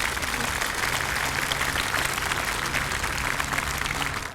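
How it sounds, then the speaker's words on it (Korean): A church congregation at an Easter union worship service claps in thanks. The applause is loud, dense and sustained throughout, a full-room sound with no talking. "여러분 감사의 박수 한번 드리겠습니다."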